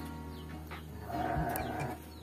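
Livestock calling from a sheep pen at a remote rural house among plantations and rice fields, with a few bleating, mooing-like cries rising over a steady outdoor background.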